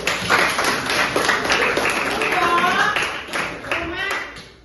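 A classroom of children claps together in a quick, lively round of applause, bright and close, with young voices calling out over the clapping.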